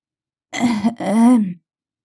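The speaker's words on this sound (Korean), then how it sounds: "할머니가 기침으로 대답을 대신한다" An elderly woman gives two hoarse, throaty coughs close by, the second drawn out like a groaning throat clear, followed by silence.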